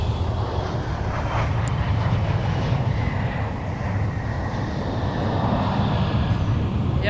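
An airliner taxis at MSP airport, its jet engines giving a steady, fairly loud rumble and whine throughout, with faint voices mixed in.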